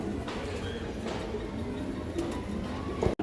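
Pigeons at a farm selling old-breed birds coo softly and repeatedly at close range, with low murmuring calls over a steady busy background and no speech.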